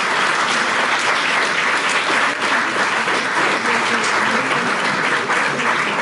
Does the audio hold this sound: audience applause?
yes